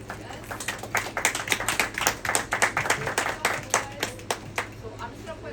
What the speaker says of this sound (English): So I just want to give him a round of applause.